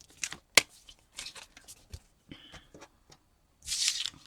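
Tarot cards are handled and pulled away in short bursts of crisp rustling, sliding and flicking, with a sharper card snap early and a longer shuffling swish near the end, close and fairly quiet.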